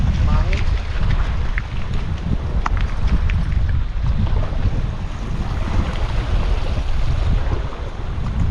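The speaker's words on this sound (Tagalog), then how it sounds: "Malakas ng hangin." Strong wind at sea buffets a fishing boat during popper casting, a loud continuous roar of gusts and microphone rumble with water wash beneath, steady throughout.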